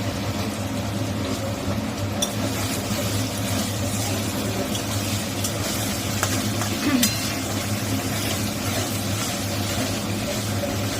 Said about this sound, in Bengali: বাটা মশলাটা দিয়ে দিল, দিয়ে মা এবার এটা কষাবো।